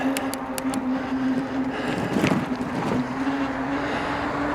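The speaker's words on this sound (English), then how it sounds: "Hopefully you can hear me, it's a bit windy." Blustery wind buffeting the microphone of a cyclist riding into a headwind on the Great Glen Way, a loud rumbling roar throughout with gusts swelling midway and no talking.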